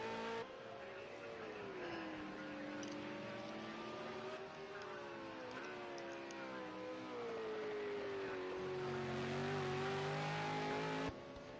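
Engines of 2014 V8 Supercars racing at Watkins Glen in a racing video game, a continuous droning whine rising and falling through gear changes, with a second car joining in under the lead engine, steady and fairly faint.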